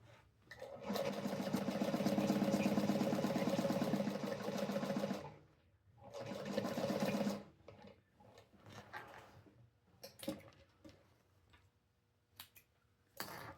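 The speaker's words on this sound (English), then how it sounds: "I'm going to sew this up all the way" A domestic sewing machine stitches fabric for a crossbody bag in two long runs of rapid, even needle rattle, followed by quieter clicks and handling noises.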